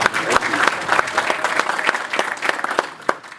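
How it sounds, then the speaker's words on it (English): An audience at a dairy producers' gathering breaks into brief applause, with distinct individual claps standing out over a steady patter of clapping from the crowd. "One more round of applause for Honourable Mugadza."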